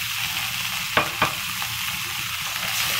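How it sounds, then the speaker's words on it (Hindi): Sweet corn frying in a spoonful of butter in a kadhai over a low flame, a continuous soft sizzle broken by two quick scraping stirs near the middle. "और इनको अच्छे से फ्राई करेंगे।"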